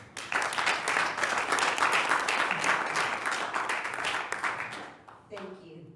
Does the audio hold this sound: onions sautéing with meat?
no